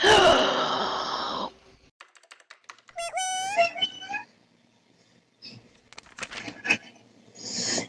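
A voice does a surprised cat imitation in short yowling, rising squeals after a loud burst of air, with scattered clicks and pauses between the cries.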